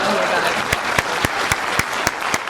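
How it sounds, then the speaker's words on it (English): A burst of crowd applause plays as a sound effect: dense, steady clapping with sharp, regularly spaced claps standing out, and a voice faintly present. "Please clap."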